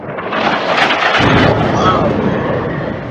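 A rocket fired from an aircraft strikes during an Israeli military bombing attack on Palestine, producing a loud, sustained broadband blast and rumble that fills the whole stretch and swells before slowly easing.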